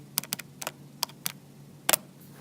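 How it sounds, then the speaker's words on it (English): Several quick, crisp taps from a calculator keypad as numbers are keyed in, with a tight cluster of presses near the end, close and fairly quiet with no talking. "type that in your calculator"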